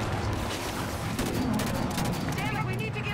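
Sustained gunfire in the video game Halo 5: Guardians, a dense stream of rapid shots and blasts mixed with game effects, loud and continuous, with voices speaking over the fighting.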